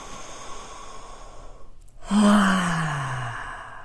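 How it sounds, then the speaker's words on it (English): One deep, slow breath from a person, close and clear. A brief hush is followed by a long, audible exhale that fades gradually, with no speech. "You could take 5 deep breaths."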